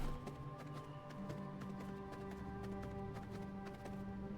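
Horse hooves clip-clop in the V Rising video game, a steady, fast run of close hoofbeats over a low ambient drone, with no talking.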